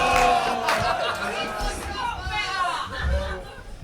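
A crowd at a rap battle league championship reacts with loud overlapping chatter, shouts and whoops, a steady babble of many voices rising and falling throughout.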